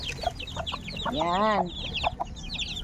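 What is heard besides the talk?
mother hen and chicks clucking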